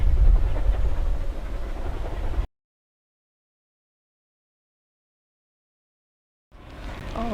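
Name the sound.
steam train on the East Lancashire Railway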